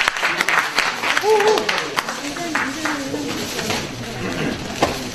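Applause for a newly introduced speaker at a Korean community gathering, scattered claps mixed with crowd murmur and overlapping voices, fairly close and lively, with a brief tonal sound rising near the start.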